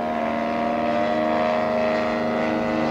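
A half-scale model aircraft flying overhead at an air show, heard as a loud, steady propeller engine drone throughout with no talk.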